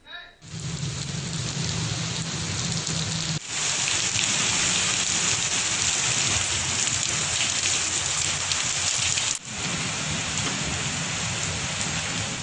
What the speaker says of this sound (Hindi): बालाई और मैदानी पंजाब में कहीं मूसलाधार तो कहीं हल्की बारिश से मौसम खुशगवार हो गया